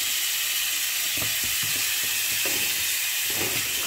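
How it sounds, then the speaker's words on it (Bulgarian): Pork neck chops that have just been flipped sizzle steadily and loudly on a grill pan. The frying hiss is broad and continuous, with faint clinks and shuffles from the pan now and then. "Айде ще си ги обърна, за да видите как се обръщат пържоли"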